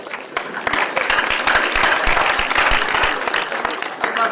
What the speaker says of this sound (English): I can't believe you got the clap for that.